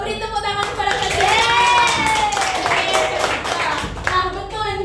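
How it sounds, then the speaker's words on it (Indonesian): Classroom applause for a student named Cantika, a burst of clapping from a group of children with a tonal voice-like sweep over it, fairly close and steady for most of the clip. "Tuh beri tepuk tangan kepada Cantika"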